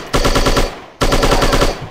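Automatic gunfire in the Striker shooting game while firing through walls: two loud, rapid bursts of evenly spaced shots separated by a brief pause.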